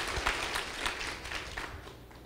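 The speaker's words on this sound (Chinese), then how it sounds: "我们再度热烈掌声谢谢我们李博士建然教授。" An audience claps for a professor after his lecture, a dense and steady round of applause that fades slightly toward the end.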